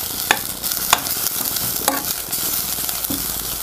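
Sesame seeds dry-roasting in a pan for a Lohri til dish, with a soft continuous crackle broken by a few sharp scraping strokes of stirring.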